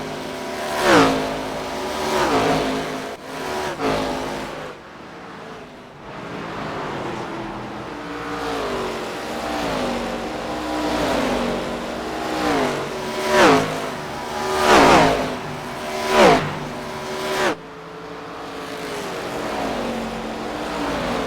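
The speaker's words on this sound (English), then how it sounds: "Enjoy the sounds of these wonderful V8 engines." Late-model race cars with V8 engines on the CSC Late Model Tour at Iowa Speedway roar past one after another, each engine note rising and falling as the cars sweep by, with revving between the passes.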